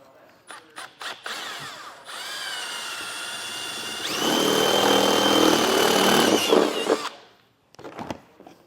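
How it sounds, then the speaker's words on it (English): A power drill bores a hole for RV solar panel wiring: short taps first, then a steady whine at moderate volume that rises in pitch and strength midway before stopping, with a brief buzz afterward. "So I'll go ahead and get that drilled out."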